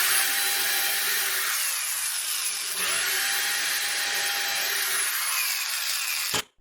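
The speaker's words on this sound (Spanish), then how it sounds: "haré perforaciones alrededor de 8 milímetros con el taladro" An electric drill bores 8 mm holes more than 30 mm deep into wood. A steady, loud grinding whir runs without a break for about six seconds, then stops abruptly, with no talking.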